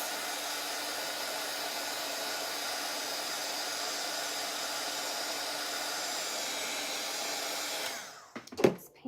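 A handheld hair dryer blows steadily and loudly on a painted craft gnome hanger to dry red paint in the cut creases, a constant whirring airflow that cuts off near the end, followed by a few clunks as it is set down.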